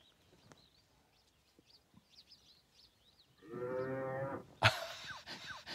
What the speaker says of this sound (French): Je vais diffuser ce son d'un jeune buffle qui vient d'être attrapé par un lion.